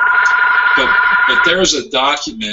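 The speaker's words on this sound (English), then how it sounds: "pardon that phone ring." A telephone rings with a steady electronic tone beneath someone talking continuously during a live webinar Q&A, the ring holding through most of the moment before fading out near the end.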